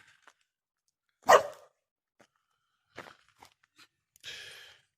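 A dog barks once, loud and fairly close, outdoors on a farm, followed by a few faint scattered sounds and quiet.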